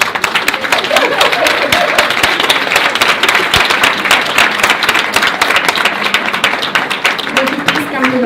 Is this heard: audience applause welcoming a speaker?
yes